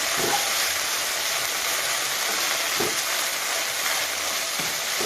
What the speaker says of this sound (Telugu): చింత చిగురు, చుక్కకూర, గోంగూర ఇవన్నీ మగ్గుతున్నాయి ఆయిల్లో